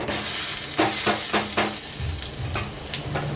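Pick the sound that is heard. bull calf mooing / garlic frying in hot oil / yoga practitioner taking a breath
garlic frying in hot oil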